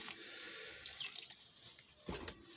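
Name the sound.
water poured into chicken liver curry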